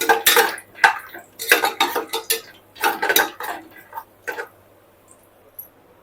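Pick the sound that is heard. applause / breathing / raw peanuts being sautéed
raw peanuts being sautéed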